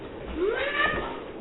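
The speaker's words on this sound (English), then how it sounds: "there's a weird cat outside!" An odd, wavering cat meow sounds from outdoors, a single drawn-out call with rising and falling pitch, fairly close and clear over a low background murmur.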